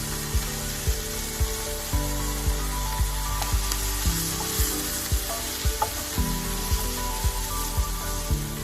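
Onions and spices for a creamy coconut seafood curry frying in a pan, a steady hiss under repeated sharp knocks of a spoon stirring against the pot roughly every half second, close and fairly loud, no talking.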